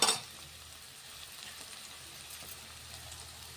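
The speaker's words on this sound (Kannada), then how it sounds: "ಕರಿಬೇವು ಕೊತ್ತಂಬರಿ ಹಾಕೋಣ." Curry leaves and coriander hitting a hot frying pan with jowar flour upma, a brief louder crackle at the start settling into a faint, steady sizzle, close up.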